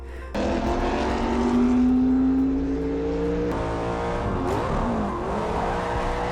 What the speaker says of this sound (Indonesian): Enzo melakukan test drive terhadap kemampuan Deportago dalam menunggangi mobil Ferrari